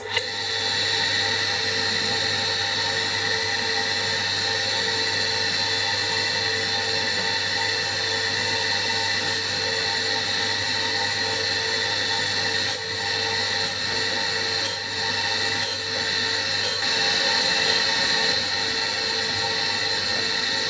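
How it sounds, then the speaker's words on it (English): A surface grinder works steadily on a part for a slotter rebuild, giving a continuous whining machine drone with faint scraping and a few short ticks near the end, and no talk. "we'll head on over to the surface grinder now"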